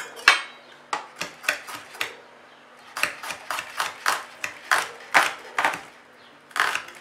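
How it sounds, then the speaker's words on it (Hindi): A knife slices onions julienne style on a board, a series of crisp close cuts in irregular bursts with short pauses between groups, no talking. "मैं उन लाइंस के साथ साथ उस डायरेक्शन में इनको काटूंगी ताकि वो भी इन अ वे जूलियन कट जाए।"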